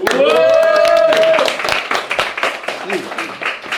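Audience applause welcoming someone back during a live show with a rapper: dense, close clapping with a loud sustained shout or cheer at the start, then the claps thin out and soften, mixed with voices.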